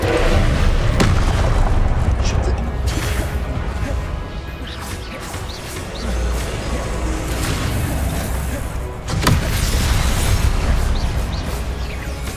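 Repeated Confringo fire-spell explosions in Hogwarts Legacy, loud booming crashes and smashing impacts in a dense continuous battle, with sharper blasts near the start and around the ninth second, over game effects.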